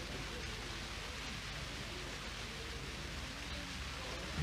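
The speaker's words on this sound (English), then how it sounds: "Here comes the rain." Steady rain falls during an outdoor lawn bowls qualifying match, a dense, even hiss with no breaks and no voices.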